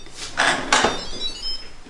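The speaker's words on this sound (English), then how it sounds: "put your insert inside the Instant Pot and put the lid on" A lid set onto an Instant Pot electric pressure cooker, two quick clattering knocks close together at moderate loudness, followed by a faint rattle as it settles, with no voices.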